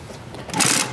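An Atlas AT4420 double-needle flat-bed heavy-duty lock stitch sewing machine stitching, set to its largest stitch length. A close, brief mechanical run swells in the second half, with no talk.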